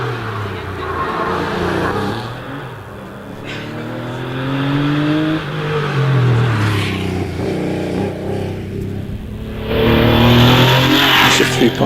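Porsche 911 with a 3.8 litre engine racing up the Prescott hillclimb course, its engine note rising and falling steadily as it accelerates and lifts through corners. The sound is close and loud throughout, with a brief tyre squeal along the way.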